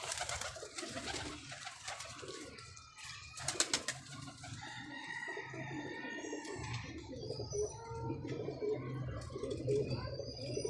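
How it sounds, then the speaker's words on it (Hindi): Pigeons coo at a net with low repeated calls, mixed with rustling and fluttering and a busy outdoor background, with some voices faintly in the mix. "बहुत आला कबूतर है यार"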